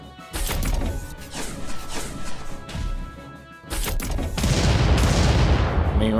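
A mech in Front Mission 2 Remake fires missiles in a loud, dense volley of bangs and crashes. A short lull follows, then an even heavier barrage, with a voice faintly present underneath.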